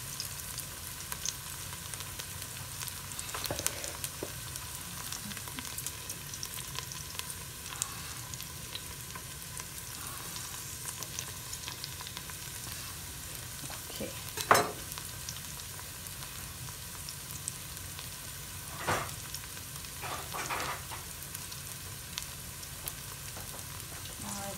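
Chopped onions fry in a pan for stuffed pumpkin, a soft continuous sizzle with occasional scrapes and clicks of a wooden spoon stirring, close and moderately quiet.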